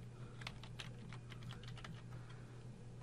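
Quiet, close keystrokes on a computer keyboard tap out a short file name in a quick uneven run of clicks over a steady low electrical hum, with no voices.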